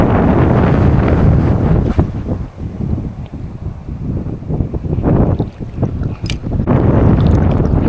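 Strong wind on a small fishing boat at sea, heavy buffeting roar against the microphone in rough gusts with brief lulls, along with faint splashing of waves, and no speech.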